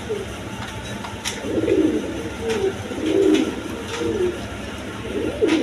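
Jacobin and Maltese pigeons coo in a loud, repeated, throaty rhythm at close range, with several overlapping calls across the stretch.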